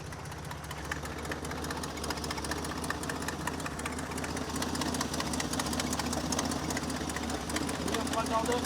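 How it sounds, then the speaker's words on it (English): A 1969 Jeep CJ5 engine idles roughly nearby with a steady rumble and irregular popping from an exhaust leak, while people talk over it. "You guys hear that popping? Huh? I think you got an exhaust leak"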